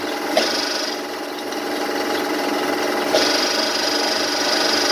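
A CNC lathe cuts knurled bushings from tough, gummy brass, producing a continuous hissing, rasping machining noise with two brief sharp ticks as the cut shifts.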